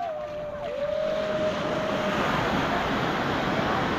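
Ocean waves break along the shore during a bike ride at Baler, a steady, fairly loud wash of surf with wind buffeting the microphone throughout, and a brief whine near the start.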